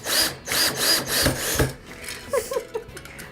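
A power drill drives screws into pre-drilled wood in repeated whirring bursts, close and loud, followed by fainter ratcheting clicks as the bit slows.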